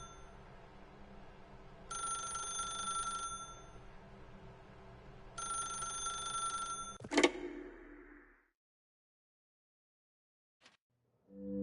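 An electronic telephone bell rings in two distinct bursts over a low background hum, followed by a clunk, then near silence with a faint click near the end, and no voice is heard.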